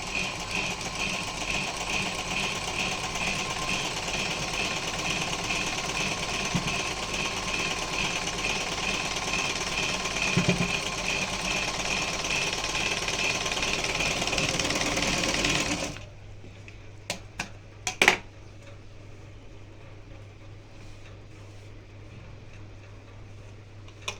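A sewing machine stitches a seam on a blouse crosspatti with a fast, steady mechanical whir for about sixteen seconds, then stops abruptly, leaving a low hum and a few brief clicks.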